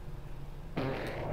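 Comic fart sound effect from the video game Super Paper Mario, a sudden loud buzzing blast that cuts in after a low rumbling background and holds steady.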